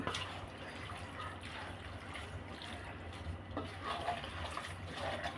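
Boiled vinegar and water are poured over cut mango for a homemade mango pickle, a faint, continuous liquid trickle and splash close by, no voices.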